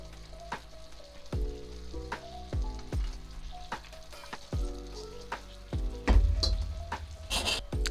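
Cooked pasta tossed through simmering garlic sauce in a hot pan sizzles steadily, with repeated scraping and stirring strokes and soft clatters of utensil against the pan, close and fairly loud throughout.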